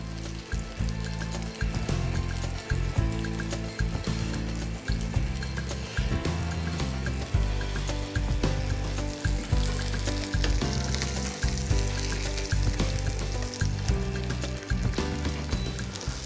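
Veal escalope, breaded, frying in oil and butter in a pan, a steady loud crackle and sizzle with bubbling spits running throughout, no voices.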